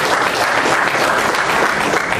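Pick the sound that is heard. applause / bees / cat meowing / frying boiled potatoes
applause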